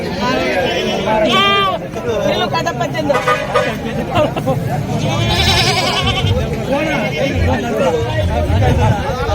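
Goats bleat repeatedly amid a noisy crowd at the Morampalli Banjara goat market, their wavering cries rising over lively chatter and background babble.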